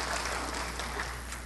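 Applause fills a Taoyuan city council chamber as visitors are welcomed to the assembly session, a steady dense patter of many hands clapping at moderate level with no voices on top.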